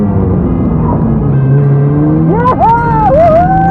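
A car accelerates hard with rising engine revs, then flicks around in a J-turn, the revs dropping and climbing again as it pulls away; loud and close throughout.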